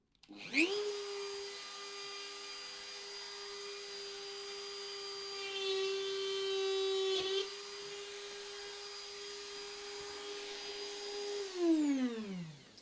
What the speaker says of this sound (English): drill a little hole at the back of this here